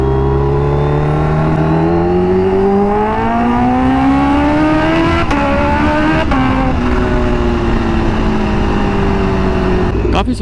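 A Kawasaki H2R motorcycle on slick tyres rides through the city in the early morning. Its engine note is loud and close and rises and falls steadily as the rider accelerates and shifts, with brief clicks between the changes.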